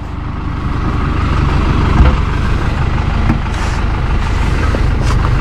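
A truck engine idles nearby with a steady low rumble on a farm where a water trough for buffalo is being built, holding an even level with a brief air-brake hiss partway through.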